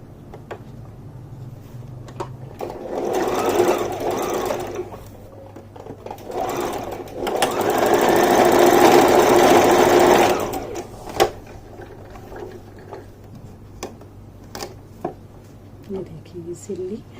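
Stitching a pant-cut plazo trouser, a sewing machine whirs in two bursts, a shorter one and then a longer steady run, with quiet handling and a low voice between them.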